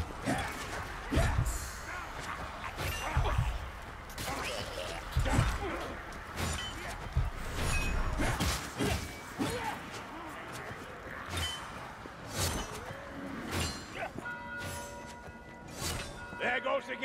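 Gate crashing down during a siege at a fort in Warhammer Vermintide, with repeated heavy thuds and crashes over a busy mix of game noise and voices talking.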